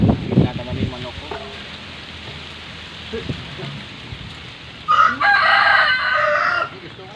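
Some scattered knocks and rustles, then one strong rooster crow near the end, nearby and loud.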